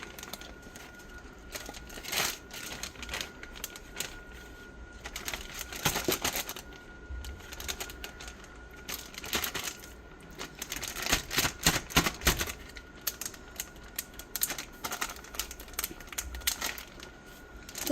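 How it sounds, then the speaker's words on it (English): Frozen meat is cut, heard as a scattered run of crisp cracks, crunches and scraping clicks at close range, coming in irregular bursts with no speech. "I guess I can cut them when they're frozen"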